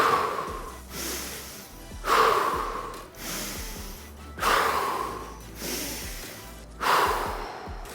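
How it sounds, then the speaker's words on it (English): Rhythmic, forceful yoga bellows breathing during an outdoor morning session at an amphitheater. Six sharp, loud nasal exhalations and inhalations come in a steady cycle about every second and a half, close to the microphone. "Now a few bellows breaths."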